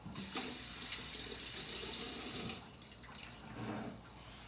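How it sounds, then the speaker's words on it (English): Hands being rinsed under a running kitchen tap, with a steady close rush of water that softens briefly partway through and then swells again. "Let me just give my hands a rinse."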